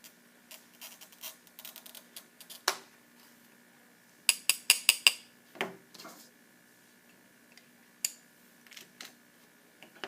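Glass cutter scoring a deeper curve into a glass sheet during cutting practice: scattered light ticks and scratches, with a brief cluster of sharp, bright clicks in the middle, close and fairly quiet with no talk.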